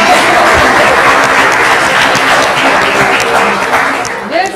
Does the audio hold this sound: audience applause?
yes